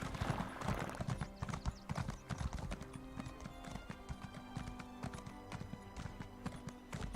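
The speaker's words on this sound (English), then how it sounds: "another quiet, nice and relaxing horse ride through Morrowind" Horse hooves clip-clop steadily at a riding pace through Morrowind in the Elder Scrolls Online game, a close rhythmic patter over a low ambient music bed, with an occasional whinny.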